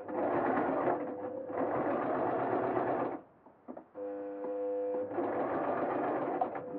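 A serger stitches a T-shirt hoodie in steady whirring bursts with a short pause and a faint hum between runs, close and alone.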